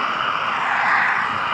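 A Lego smart brick fitted in a toy Lego plane gives off an electronic flying sound effect, a loud, steady engine-like drone lasting a moment.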